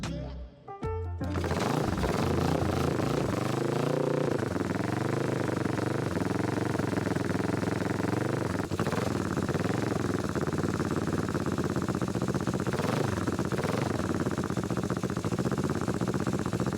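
A scrambler motorcycle fitted with a cheap aftermarket exhaust starts up and settles into a loud, raspy idle with occasional throttle blips, close to the listener and heard alone for over fifteen seconds.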